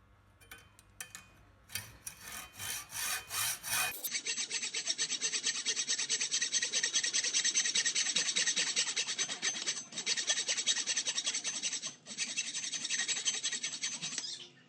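Rhythmic back-and-forth strokes of a hand saw or file cutting a small metal model excavator part to length, close and steady, continuing for several seconds with a brief pause near the end.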